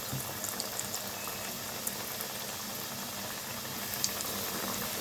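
Strips deep-frying in a deep pot of hot oil give a dense, steady bubbling hiss, close and even throughout, with occasional small pops.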